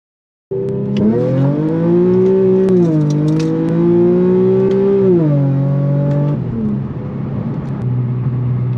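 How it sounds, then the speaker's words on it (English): Inside the cabin of an Infiniti Q50 fitted with an ISR exhaust while driving, the engine drones with a rich tone that swells and eases as the car accelerates and lets off, then settles into a lower, steady cruise hum. "the cabin noise with this exhaust is not that loud"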